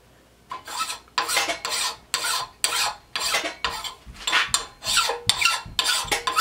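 A hand file rasps along the edge of an axe in about a dozen firm, rhythmic strokes, each a bright scraping burst with short pauses between.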